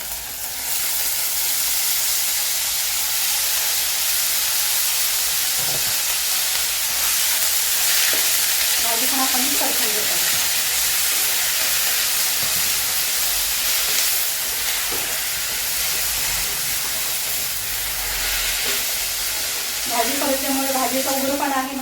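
Papdi beans are tossed into sautéed tomato and fried in a pan, a loud continuous sizzle and hiss with occasional stirring scrapes and a few faint clinks, close throughout.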